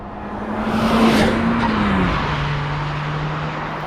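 A turbocharged Mazda MX-5 Miata with a stock 11:1 compression engine drives past, a steady loud engine drone that dips in pitch as it moves, with tire and wind roar.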